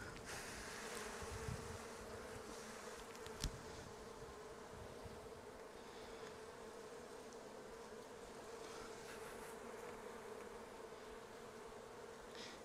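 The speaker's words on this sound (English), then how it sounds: "Lots of bees there." A dense swarm of bees around an open Flow Hive hums and buzzes continuously, close by, with a steady droning intensity and a brief click partway through.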